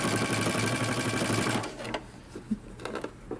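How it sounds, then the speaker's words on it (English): A sewing machine stitches a garment facing close to its seam in a steady, fast mechanical run for about a second and a half, then falls quiet with a few soft handling taps and clicks. "I'm gonna stitch close to the seam"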